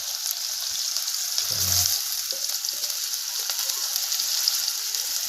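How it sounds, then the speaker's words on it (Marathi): Chopped potato frying with sago pearls for sabudana khichdi on a wood-fired stove, a steady soft sizzle with a brief low stirring bump partway through. "आता आपण टाकूया चिरलेला बटाटा"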